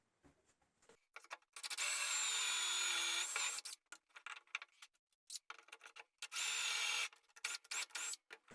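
Power drill boring dowel holes in wood through a Wolfcraft 4640000 dowel jig, two separate close whirring bursts of a couple of seconds each, separated by quiet clicks and handling noises.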